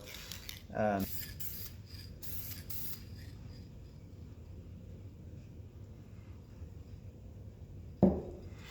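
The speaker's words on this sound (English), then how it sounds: "So I'm going to go ahead and lightly spray this." An aerosol can of spray paint gives two short hissing bursts over a homemade cigar pen, separated by a long stretch of quiet room tone, with a brief mechanical rattle between them.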